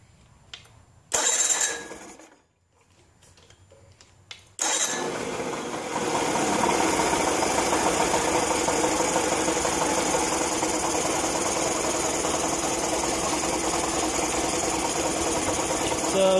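An Evinrude 40 HP outboard motor being cranked and starting: short bursts of the starter, a pause, then the engine catches and settles into a steady, loud, close idle that continues to the end.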